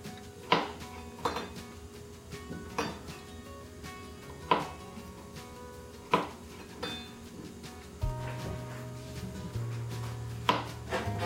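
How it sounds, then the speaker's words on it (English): A knife chops zucchini into small pieces with crisp, evenly spaced chops close by, repeating about once a second, while a low steady hum joins in toward the end. "your zucchini, treat it just like you do the squash, and just cut it in nice little pieces"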